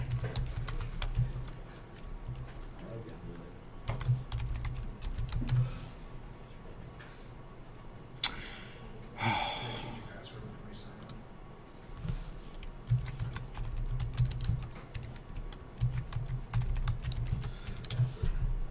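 Someone types on a computer keyboard to log in to Windows, a run of soft, close clicking keystrokes over a low steady room hum, with a brief louder burst of noise midway.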